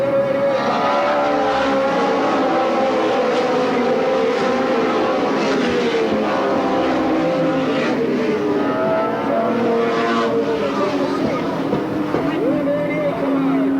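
Race cars circling Sandusky Speedway in 1985, including car number 88 moving up on the outside; a steady roar of several engines with passing and revving tones, loud and continuous, under an announcer's voice.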